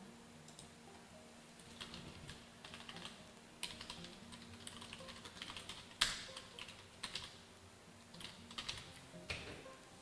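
Typing on a computer keyboard, a steady run of quiet, close key taps with a few louder strokes, heard alone without talk.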